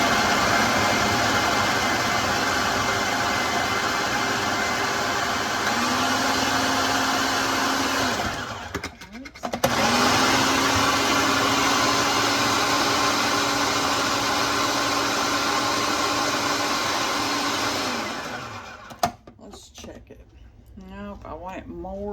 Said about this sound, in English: put it in your food processor. Now we're going to chop it all up and make it like a paste